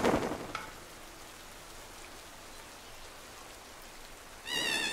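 Steady, even rain pours throughout a scene in the video game Pokémon Shield, a soft continuous hiss beneath short bursts of game sound at the start and end.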